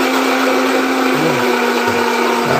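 A blender whirs loudly and continuously at close range, blending fruit, its motor droning steadily with slight shifts in pitch as it churns.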